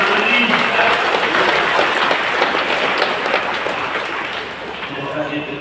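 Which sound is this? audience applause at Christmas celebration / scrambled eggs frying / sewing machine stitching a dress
audience applause at Christmas celebration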